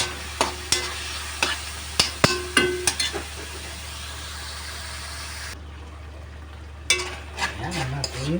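Milkfish (bangus) sautéing in a pan, with scattered sharp clinks and scrapes of a utensil stirring against the pan over a low, steady background hum, the fry itself faint.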